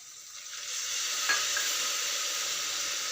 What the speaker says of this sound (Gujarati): હવે આમાં દાળ પણ નાખી દઈશું.